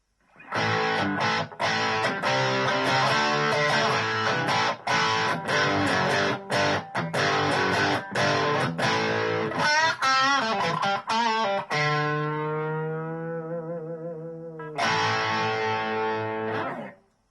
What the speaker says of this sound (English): we've just moved on to the crunch voicing now